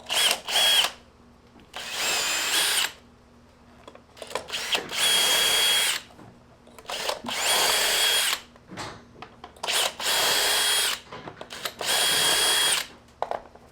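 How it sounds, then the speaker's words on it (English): A power drill bores holes in plywood while building a desk, sounding as about six loud, close bursts of high whine, each a second or two long, separated by brief pauses with light handling noise and no talk. "You'll have all your holes drilled"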